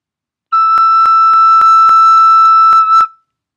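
A recorder sounds a single sustained high E, bright and steady, held for a few seconds with small tonguing breaks, close and alone, then stopping.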